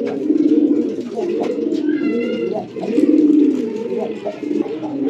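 Racing pigeons cooing loudly and close by in a loft, repeated throaty coos with a few brief pauses, and faint calls from other birds in the background.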